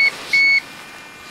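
A wind turbine diversion controller sounds its warning buzzer during high winds at night, giving short sharp electronic beeps in a stop-start pattern over faint background noise.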